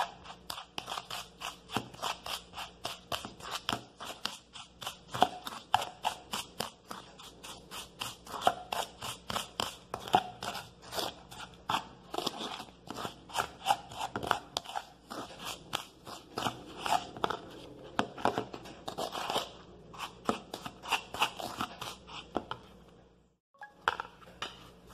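Ground coffee, a teaspoon and olive oil mixed together for a face scrub, with a fast, continuous run of close, gritty scraping and clinking strokes that keeps going for a long stretch with only a brief pause near the end.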